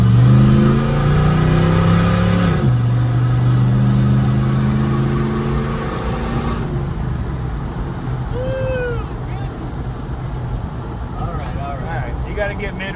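Hemi V8 swapped into an old Dodge D150 truck, running loud and close with a steady rumbling drone that eases down in pitch and level. A brief whine rises over it partway through.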